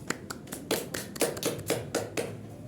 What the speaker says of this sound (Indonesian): Beri tepuk tangan kepada kalian.